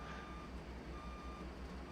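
Steady, evenly spaced reversing beeps from a dump truck backing up with its pup trailer in American Truck Simulator, sounding repeatedly over a low, rumbling diesel engine idle.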